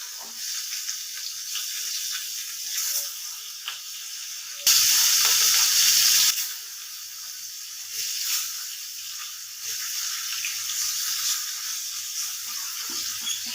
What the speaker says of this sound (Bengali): এখানে ভাজা হতে থাক